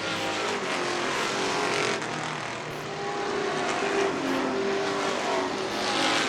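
Race cars roar around an oval track in a pack, a loud, continuous engine drone that swells and fades as cars pass by.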